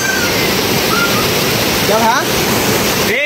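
Steady broadband rush of a waterfall at a crowded hiking spot, the Udayagiri Salvapet falls, loud and continuous throughout, with a brief bird-like chirp and faint voices in the crowd.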